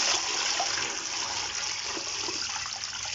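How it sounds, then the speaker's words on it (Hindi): Water poured into a pot of bong paye (trotters) for cooking, a steady broadband rushing stream running without a break, fairly close and alone. "ये देखिए पानी डाल रहा हूँ मैं।"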